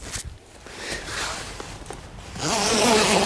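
A tent zipper on a wildlife photography hide is pulled open in short rasping bursts amid rustling and handling noises, close by, ending in a longer louder rustle.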